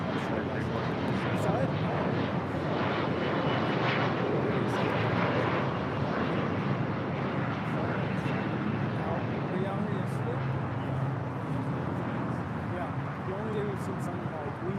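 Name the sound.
airplane taking off at LAX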